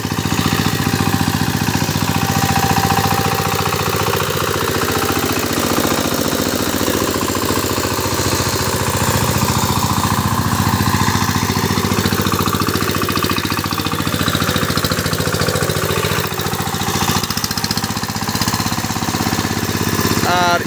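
A Changchai 20hp diesel engine on a power tiller runs steadily and loudly throughout, a continuous close chugging drone with no pauses.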